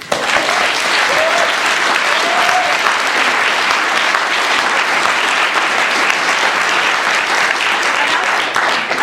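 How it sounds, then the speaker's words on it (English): Sustained, dense applause from a town hall audience at a Bill C-51 question-and-answer meeting, a loud, even wash of many hands clapping that holds steady throughout without letting up. "I appreciate the great round of applause for Joanne Roberts"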